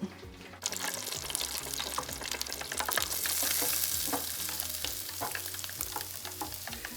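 Fish pieces coated in pork-rind breadcrumbs with Parmesan, no egg batter, frying in a pan in a keto recipe, a steady loud sizzle and crackle with occasional stirring, alone without voices.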